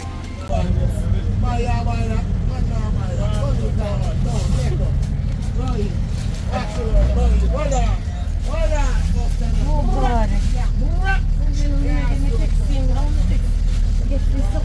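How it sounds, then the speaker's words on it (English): Steady low engine and road rumble from inside a moving bus, with a shift in drone partway through and nearby voices talking over it for most of the ride. "Man, the bus. Inna the bus."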